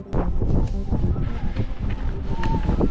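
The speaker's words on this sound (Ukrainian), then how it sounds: "Вітер вставав все сильніше" Strong mountain wind in the Polish mountains roars steadily across an open microphone, buffeting and rumbling with constant low noise throughout.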